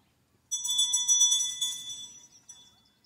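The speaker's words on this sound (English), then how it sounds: "I'll ring the bell for the chime to start the silence" A single bell is struck once to open a moment of silence at an outdoor gathering in a park, with a bright ringing tone that lingers and slowly fades, followed by a softer second ring near the end.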